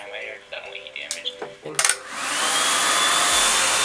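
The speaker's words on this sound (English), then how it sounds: "Then I'm just going to go in and blow dry right here. And I'm using the cool setting." A hair dryer on the cool setting switches on after a few clattering handling sounds and then blows in a loud, steady airy roar that continues to the end.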